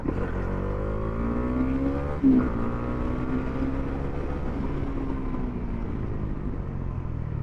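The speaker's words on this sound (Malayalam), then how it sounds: "വണ്ടി സിമ്പിളായിട്ടാണ് കയറി പോകുന്നത്" A modified Bajaj Dominar 400 motorcycle, a 400cc bike, pulls away on a road with a steady engine drone rising in pitch as it accelerates, heard alone without talk.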